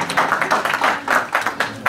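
Applause from a conference audience in Brussels for Madam Sirleaf, heard as rhythmic rounds of clapping that swell in repeated bursts, moderately close, with no talk over it.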